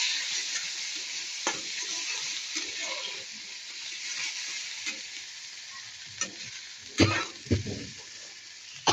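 Tomatoes fry and get stirred in a pan, a steady soft sizzle underlying the whole stretch, with scattered scraping and clinking of the spoon that grow louder and more frequent toward the end.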